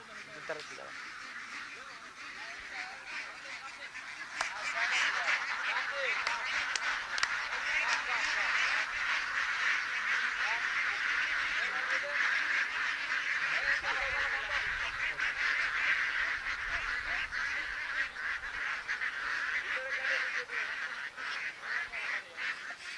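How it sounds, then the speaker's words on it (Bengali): A large flock of five-month-old laying ducks on a duck farm quacks and honks continuously in a dense, overlapping chorus, with a voice faintly present at times. "এই হাঁসগুলো হচ্ছে যে পাঁচ মাস বয়সের হাঁস এগুলো ডিমের মুখের হাঁস"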